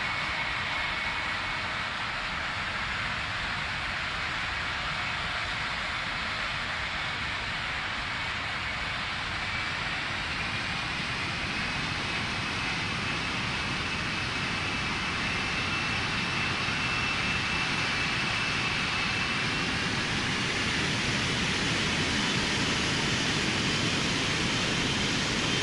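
Egyptair Boeing 777 engines spool up for takeoff from Dubai in the Real Flight Simulator game. They make a dense, continuous roar that rises gently toward the end, with no voices over it.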